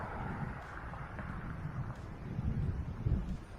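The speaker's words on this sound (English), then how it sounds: "it's so windy, I'm not sure either one's going to do a very good job." Gusty wind buffets an outdoor microphone on a hot spring day, a steady low rumble with stronger bursts toward the end, continuous and fairly loud with no voices.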